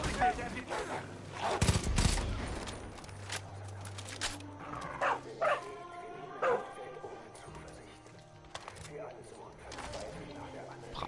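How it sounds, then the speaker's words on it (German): Dog barking in Far Cry 5 gameplay, a few sharp barks mixed with bursts of gunfire and game effects, with a voice talking over parts of it. "Braver Hund."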